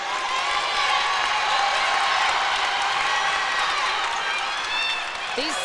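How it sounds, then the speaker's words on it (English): Dense, steady crowd noise from both sides of a girls' high school basketball sectional final, Pewaukee against Pius XI, with cheering and scattered clapping filling the gym throughout and a brief squeak near the end. "The crowd, both sides, they're getting into it."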